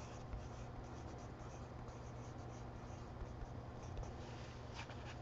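A pencil scratches steadily across paper, continuous soft scribbling near and moderately quiet, with no talk over it.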